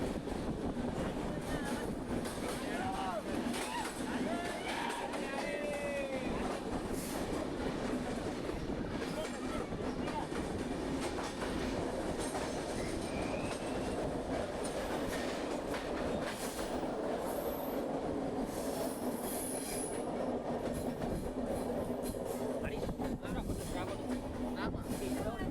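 Passenger train running on rails from Visakhapatnam toward Araku, a steady close rumble of wheels and carriages that holds unbroken for the whole stretch, with faint squeals riding over it.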